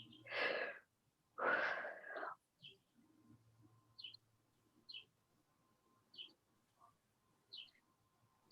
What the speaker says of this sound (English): I was thinking that when the bird was chirping